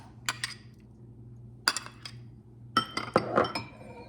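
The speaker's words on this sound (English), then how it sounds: "In a bowl, I'm going to mix the ricotta cheese" Ricotta cheese being mixed in a glass bowl for baked ziti, heard as a handful of close, sharp clinks and scrapes of a utensil against glass, spaced out and clustering toward the end.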